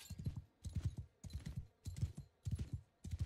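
Horse hooves in the video game Mount & Blade II: Bannerlord clip-clop at a steady walking pace, a regular rhythm of soft thuds repeating, fairly close and moderately quiet.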